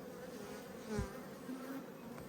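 Honey bees buzz steadily around an open hive during a late-winter inspection, a soft continuous drone with a few louder individual passes close by.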